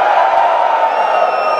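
An audience at an Amway business seminar shouts and cheers together in a loud, sustained crowd roar, with voices whooping over the din.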